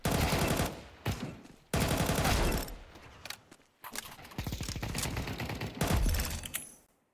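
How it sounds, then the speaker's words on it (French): Heavy machine gun in a shooting video game, firing in several long, dense bursts separated by short pauses, loud and close throughout. "grosse mitrailleuse"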